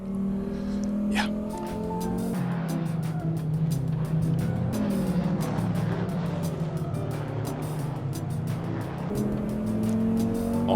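A 1994 Audi Sport Quattro rally car driving at Laguna in a racing game, its engine droning and shifting pitch steadily with intermittent tire squeal, with a voice talking briefly.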